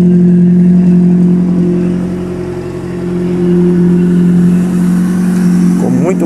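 An engine in a Fiat 147, freshly restored, runs steadily at close range, its level drone swelling slightly and settling before a brief rise near the end, with no talk over it.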